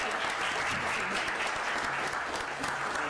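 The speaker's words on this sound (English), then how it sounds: "will y'all give these young people a round of applause?" A council meeting audience applauds young people, a sustained, even wash of clapping from a crowded room, with a few faint voices underneath.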